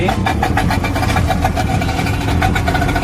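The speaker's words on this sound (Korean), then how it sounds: "자, 시동 걸었으면 냉각 수 소리" A Whaly 435R boat's outboard motor runs steadily after a rope start, its rapid even chugging close and loud throughout.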